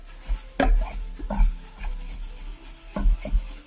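Flour being stirred in a hot pan as it cooks, the utensil scraping and rubbing across the pan in several short rasping strokes, close and fairly loud, with no talking.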